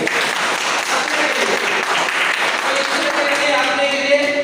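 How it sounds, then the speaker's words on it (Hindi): A seminar audience bursts into applause, a dense, sustained clapping that carries on evenly for several seconds with no pause. "तो जोरदार ताली हो जाए।"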